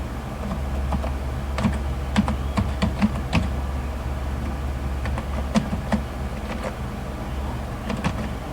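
Keys clatter on a computer keyboard in short bursts of quick, close taps separated by brief pauses, over a low steady hum with no voices.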